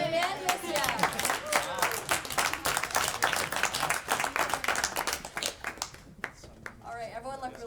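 Audience clapping at a student government senate hearing, a dense run of hand claps carrying on for several seconds and thinning out near the end, with voices talking over it throughout.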